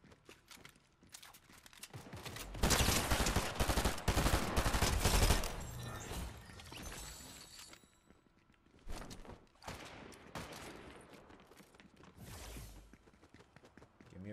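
Fortnite gunfire comes in rapid bursts: a loud sustained volley of shots for several seconds, then quieter scattered shots and short bursts, with no talking.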